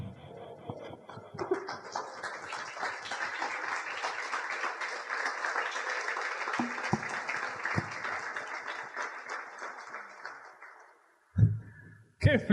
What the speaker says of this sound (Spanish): El aplauso fue como contenido